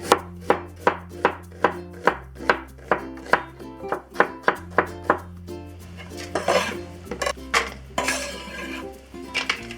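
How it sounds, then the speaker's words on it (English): A knife slices an onion on a cutting board for a beef and bitter melon stir fry, with crisp rhythmic chops in a steady run, then lighter clinks and scrapes near the end. "And we'll slice the onion."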